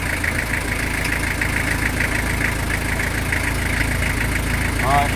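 A 100-year-old truck engine idles out of gear, a steady mid-to-low rumble with a faint knocking texture running evenly throughout, close and fairly loud.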